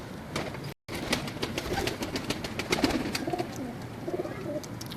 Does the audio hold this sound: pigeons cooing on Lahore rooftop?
yes